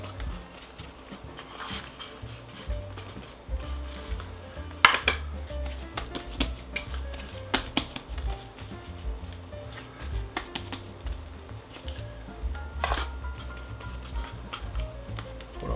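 Loaves of Polish Easter bread dough with raisins are set into 7x4-inch metal loaf pans, giving quiet scattered clinks, knocks and metallic taps at an irregular pace, with no talk.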